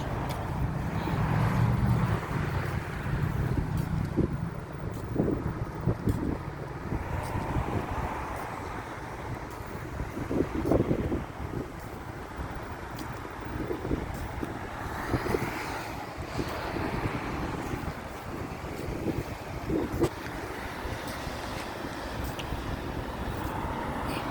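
Steady cold wind roars and buffets against the microphone outdoors, a continuous rushing noise with occasional louder gusts.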